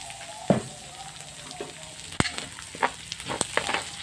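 Onions for spaghetti sauce fry in a pan with a soft, steady sizzle, punctuated by a few sharp clanks and stirring scrapes of a utensil against the pan, close and fairly quiet.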